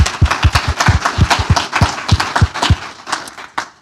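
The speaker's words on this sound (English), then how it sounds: "Let's have another round of applause for these folks" Small seminar audience giving a round of applause, a modest group of distinct, fairly close hand claps that thin out toward the end.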